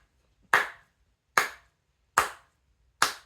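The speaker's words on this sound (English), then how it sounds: "Give him a slow clap." Four single, loud, sharp hand claps in an audience slow clap, evenly spaced just under a second apart, each ringing briefly in a quiet room.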